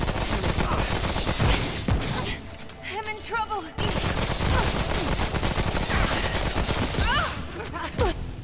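Gunfire from players shooting each other in the video game Remnant: From the Ashes, a dense continuous barrage of loud shots filling most of the stretch, with brief voiced sounds heard in a couple of quieter gaps.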